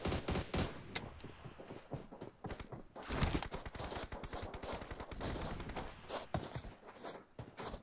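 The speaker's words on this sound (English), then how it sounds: "Shooting." PUBG gunfire crackles in sharp, irregular bursts of rapid shots, some isolated cracks and some clustered volleys, heard fairly close with no talking.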